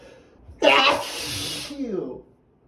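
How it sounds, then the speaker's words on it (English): A sudden loud sneeze from a person in a bout of repeated sneezing, followed by a softer breathy trailing vocal sound, close and alone. "Sneezing doesn't help in the slightest."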